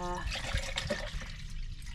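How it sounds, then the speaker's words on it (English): Water runs into a kettle inside a camper van, a short splashing trickle close by with speech-like sounds mixed in. "fill her with water."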